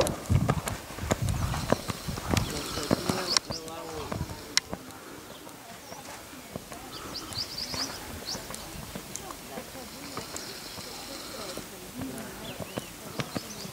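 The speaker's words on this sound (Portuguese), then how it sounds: "Cavalo bacana." Rhythmic hooves of a Lusitano horse clip-clopping on hard ground while jumping without reins, with scattered bird chirps and some voices in the background.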